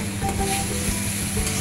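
Turmeric and chilli powder sizzle steadily in a hot pan of oil and onions for a crab curry, a constant close frying hiss with faint stirring scrapes.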